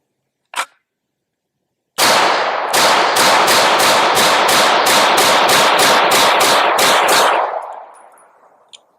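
Matrix Arms MX19 Elite pistol with aluminum frame and 3 lb trigger: one isolated shot, a pause, then a rapid string of about a dozen sharp, loud reports in quick succession, tailing off into fading echo.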